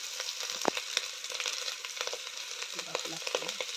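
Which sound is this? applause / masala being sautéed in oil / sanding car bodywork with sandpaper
masala being sautéed in oil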